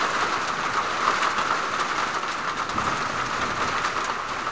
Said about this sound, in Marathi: पत्र्यावर एकदम पाऊस मोठा बारीक झालेला जाणवतोय